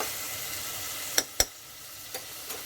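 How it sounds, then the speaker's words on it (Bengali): Tomato, potato, carrot and beans stir-fry in a pan with a steady broadband sizzle, broken by a few sharp clinks of a utensil stirring. "টমেটো আর আলু, গাজর আর বিনসটা দিয়ে নাড়িয়ে চাড়িয়ে"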